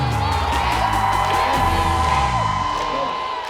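Studio audience on a Korean trot variety show cheers and whoops for Mister Trot season 1 contestant Kim Hee-jae, a loud continuous crowd roar with shouts over a steady tone, fading slightly at the end.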